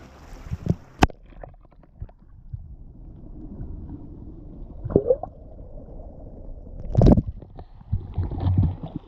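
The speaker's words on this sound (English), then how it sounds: "Gonna dunk you guys in the water." Muffled underwater gurgling and sloshing in a cold coastal rock pool, with sharp splashes and bubbling bursts as the microphone is dunked in and out of the water.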